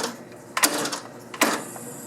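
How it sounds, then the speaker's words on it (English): A gas lawn mower with fuel leaking around its carburetor is cranked twice, each attempt a short, sharp mechanical burst as the engine barely turns over, separated by a quiet gap. "And it hardly turns over."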